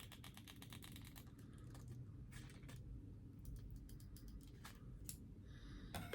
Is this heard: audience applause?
no